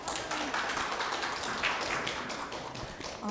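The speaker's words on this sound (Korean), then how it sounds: "박수로 부탁드리겠습니다" A steady patter of clapping from an audience at a university innovation forum greets a student presenter, moderately quiet and even throughout.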